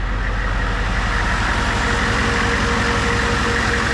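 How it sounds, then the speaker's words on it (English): 1987 AM General Humvee (HMMWV) engine idling smoothly with the air conditioning running, an even, steady low rumble heard up close, unbroken and alone. "see how smooth the engine is"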